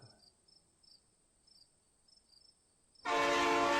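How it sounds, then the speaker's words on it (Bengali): A train approaching a station at night: faint crickets chirp steadily, then a loud, sudden burst of train horn and rushing rail noise takes over near the end. "হঠাৎ কানে আসলো ট্রেনের হুইসেলের শব্দ আর চাকার খটখট শব্দ।"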